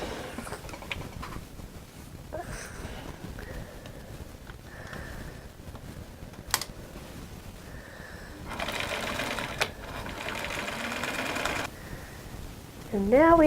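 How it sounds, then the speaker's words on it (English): A sewing machine runs a quarter-inch seam on a cotton shirt, its motor whirring in short runs and then a longer steady stretch, close by, with someone talking over parts of it. "I'm going to sew probably about 1/4 inch down here"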